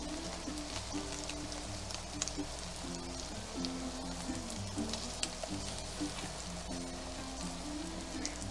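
Slices of Spam fry in teriyaki sauce in a pan with a dense, steady crackling sizzle. A faint low hum runs underneath the sizzle and nobody speaks.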